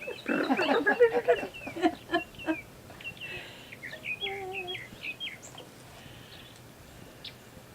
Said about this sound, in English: That bird in the background.